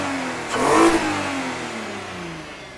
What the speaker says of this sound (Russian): Немножко можем погазовать.